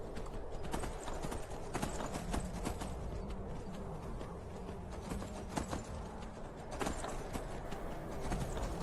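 Horse hooves gallop in Skyrim, a steady rapid clip-clop running throughout at moderate loudness, with faint game ambience and no talk.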